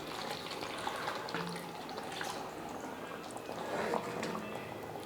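Water is poured into a simmering chicken gravy made with ground tomato and masala, giving faint trickling, splashing and bubbling sounds, close and soft throughout with no voices.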